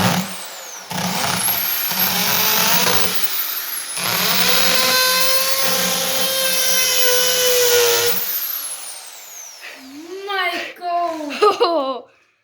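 A power drill bores through a mobile phone, a loud continuous high whine with shifting pitch lasting about eight seconds, then stopping as excited voices and laughter take over.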